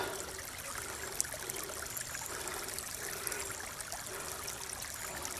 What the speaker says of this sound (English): there's a little bit of water running. Not a lot, but a little bit.